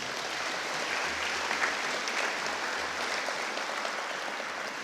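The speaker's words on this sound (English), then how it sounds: "A nice round of applause, please, for all of our sponsors" An audience applauds the sponsors at a high school football hall of fame induction ceremony, a steady, even wash of clapping from a large room that holds at a moderate level throughout.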